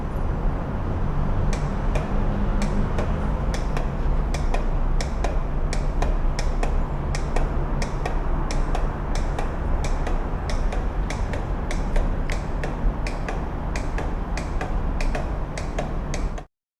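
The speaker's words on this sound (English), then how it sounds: "The relay will just keep on clicking non-stop" A Yamaha R6 motorcycle's relay clicks steadily and non-stop in a workshop, sharp evenly spaced ticks over a constant loud background hum while the engine fails to start.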